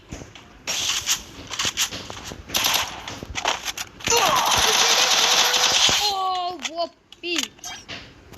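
Free Fire video game combat: rapid gunfire bursts and a dense, sustained grenade blast, with children's voices talking over the action.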